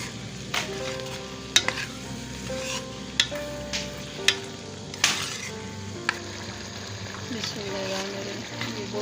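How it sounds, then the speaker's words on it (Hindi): Chana dal and liver are stirred and sautéed in a pan, a soft sizzle under repeated sharp scrapes and clinks of a spoon against the metal, with a faint bubbling hum in the background. "अब इन दोनों चीज़ों की बुनाई करूँगी अच्छी तरह"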